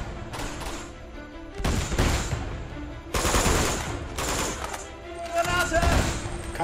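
Rapid automatic gunfire from the video game Uncharted 2, loud bursts in several clusters across the stretch, with a voice talking intermittently between and under the shots.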